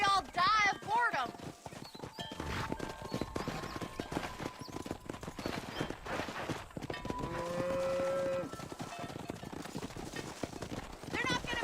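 Cattle moo in drawn-out calls amid the steady clip-clop of horse hooves during a cattle drive in Red Dead Redemption on Xbox 360, with people talking over the livestock throughout.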